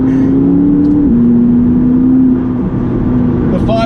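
A McLaren 570GT on a twisty Gloucestershire country road holds a loud, steady engine drone heard from inside, the pitch stepping down once as it shifts and then staying even.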